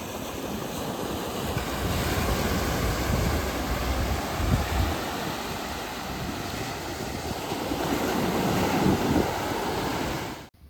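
Ocean waves roll onto a quiet, undeveloped sea beach at Bagda, with steady surf and gusting wind buffeting the microphone, loud and continuous with no voices before cutting off at the end.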